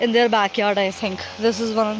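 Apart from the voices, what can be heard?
No everyday noises stand out.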